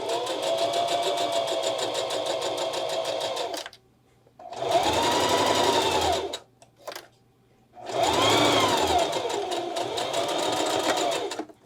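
A sewing machine runs a straight stitch through backpack fabric for an ultralight hiking pack, whirring steadily in three loud bursts separated by brief pauses, with a short blip between the second and third runs.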